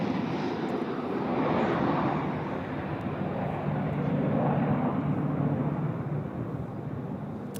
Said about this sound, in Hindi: सुखोई, मिराज और तेजस के 9 फाइटर जेट टेक ऑफ और लैंडिंग का